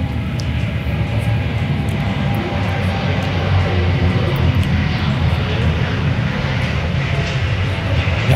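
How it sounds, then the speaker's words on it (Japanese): United Airlines airliner taking off at Narita, a loud sustained jet engine roar filling the scene steadily from start to end. "ユナイテッド離陸。"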